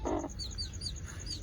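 Backyard chickens with their chicks make quiet, high peeping chirps that repeat in a soft run after a brief low cluck.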